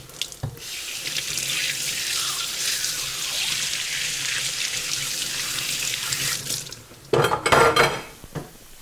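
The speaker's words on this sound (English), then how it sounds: "So I just give it a quick rinse right away." Kitchen tap running steadily as a garlic press is rinsed under the stream, with a clatter of metal against the sink near the end.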